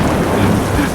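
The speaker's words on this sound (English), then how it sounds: "How many times is that thunder going to scare me?" A loud, continuous roar of thunderstorm rain and rumbling thunder fills the short moment at a steady level, with no voices heard.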